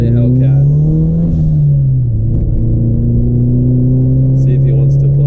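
A Dodge Hellcat-type V8 muscle car engine rumbles and revs loudly close by during a street race, a steady deep drone rising and falling throughout with no pauses.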